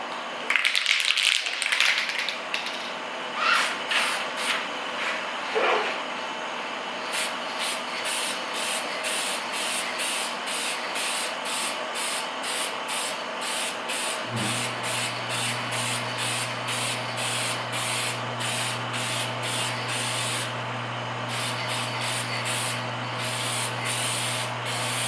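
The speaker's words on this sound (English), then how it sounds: "So here we go, let's start painting." Spray painting a Toyota MR2 in a home garage: a hissing spray gun fires in repeated short bursts, and partway through a low compressor hum starts up beneath it. No one talks.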